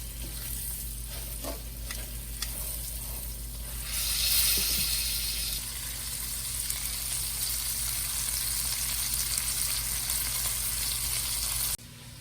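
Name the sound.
chicken sizzling in a pan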